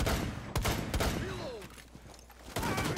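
Gunfire in the first-person shooter Rainbow Six Siege, a cluster of sharp cracks and thuds in quick bursts amid game effects and background clutter, loud and close.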